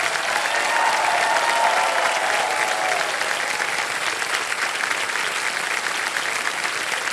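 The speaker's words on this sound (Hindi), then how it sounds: "ताली बजती रहे क्योंकि अब चेक आने वाला इनके नाम।" A studio audience on the KBC game show claps loudly and steadily, a dense, unbroken wall of applause lasting the full seven seconds without any talk.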